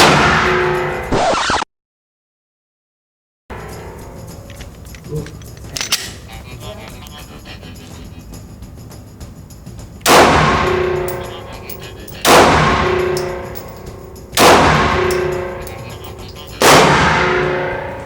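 Three sharp gunshots, evenly spaced, heard through FLUGZ earplugs, sound muffled and dulled, each with a short decaying tail; some faint handling noise comes before them.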